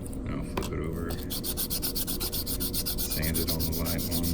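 Continuous close-up scraping and rubbing as a small coin is sanded on a finer filing board, strokes repeating steadily with no voices.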